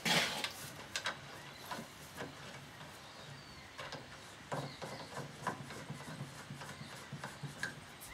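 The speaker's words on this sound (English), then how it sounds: "now I'll screw a little radial brake on it" A radial muzzle brake being screwed onto a .300 RUM rifle barrel, quiet scraping and rubbing of metal threads with a few sharp clicks and taps, close and faint, no talk.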